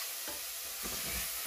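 Sliced bacon sautés in a pan for ginisang mongo, an even low sizzle broken by a few soft stirring scrapes and a brief clink at the end.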